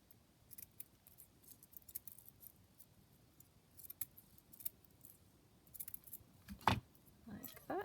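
Scissors cutting a strip of paper trim for a handmade paper wallet, a series of quiet, close snips and crisp paper rustles with a sharper cut near the end.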